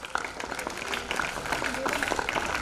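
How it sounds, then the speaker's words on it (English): Students at a 2018 school sports day clapping for a house team, steady crowd applause heard from a distance with a voice audible over it. "Clap loudly for Teresa House."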